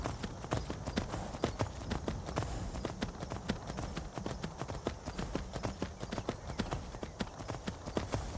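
A horse's hooves clip-clop steadily in the game Skyrim as it climbs a mountain, a rapid regular run of moderately loud strikes lasting throughout.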